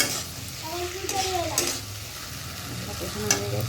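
Spice paste fries in a pan with a steady sizzle and occasional sharp spoon scrapes, while a faint voice murmurs briefly in the background.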